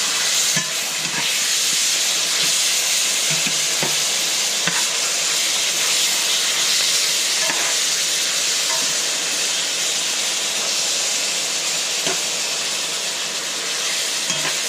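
Steak for pan con bistec, seasoned with lime, cumin, garlic and onion powder, sizzles steadily and loudly in a hot pan, a dense continuous hiss with small clicks and bumps as the pieces are turned.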